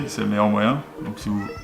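A cat meows in a room where a guitar pickguard is being installed on a Fender Stratocaster, with two drawn-out mewing calls heard close and loud over someone talking.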